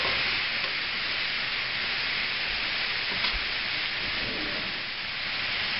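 Onion frying in a pan on the stove, a dense steady hiss of sizzling oil that stays even and close from start to finish, with no voices.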